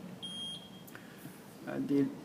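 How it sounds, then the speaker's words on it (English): A solar power inverter's alarm sounds a thin, high electronic beep briefly, followed by faint murmuring and a couple of short lower tones against a quiet background. "You'll hear the alarm"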